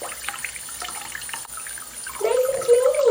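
Tap water runs and trickles while rinsing a bottle-baby kitten's rear, soft and steady at first, then swelling into a louder close stream near the end.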